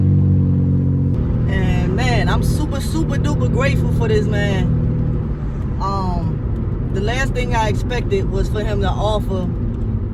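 A borrowed car drives along the road with a steady, loud engine and road rumble that runs throughout while someone talks over it.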